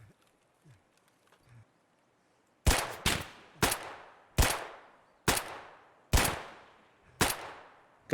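Seven loud pistol shots ring out one after another at an uneven pace, each with a sharp crack and short decaying tail, fired at a sniper scav in Escape from Tarkov after a quiet start with faint rustles.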